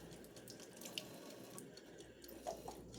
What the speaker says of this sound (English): I'm going to go ahead and add in my 1/2 cup of warm water.